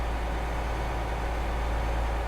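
Steady idling drone of the diesel generator units on a BR Class 805 Evero in Train Sim World 6, a continuous low rumble at an even level throughout, with no voices.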